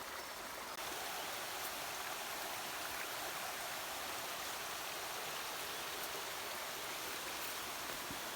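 Water of a forest stream near a pool keeps rushing and splashing in a steady, close, broadband wash, unbroken from start to finish with no voices over it.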